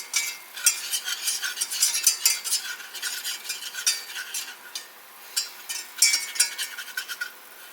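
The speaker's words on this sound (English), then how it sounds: "I've got a little whisk I'm going to use for that part. Just going to whisk that all around." A small whisk scraping steadily around a stovetop pan as flour is cooked into butter for homemade mac and cheese, quick repeated metallic strokes with a soft sizzle, close and fairly loud.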